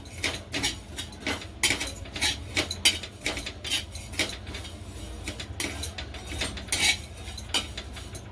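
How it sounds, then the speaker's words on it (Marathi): Cumin seeds dry-roasted in a pan and stirred with a utensil, making steady scraping, rattling and clinking that repeats in a brisk rhythm, close and fairly loud, with no voice. "आता जिरं भाजून घेऊया"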